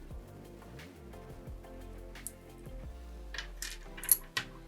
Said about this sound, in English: Now I'm gonna detach the carabiner